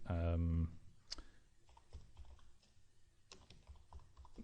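Light keyboard tapping as a blog group name is typed on a computer, soft irregular key clicks following a short burst of voice at the start.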